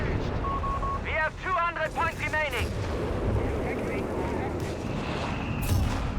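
Airburst artillery shells exploding in Company of Heroes 3, a dense rumble of booming blasts and battlefield noise, with brief tonal sound effects early on.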